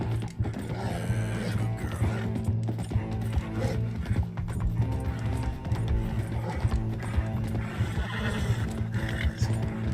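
Horse neighing and whinnying with hoofbeats while galloping in the Red Dead Redemption 2 video game, a dense, loud, continuous mix of whinnies, clip-clop and mechanical rattling with no speech.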